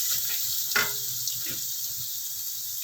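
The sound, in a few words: ginger, garlic and onion sautéing in a hot pan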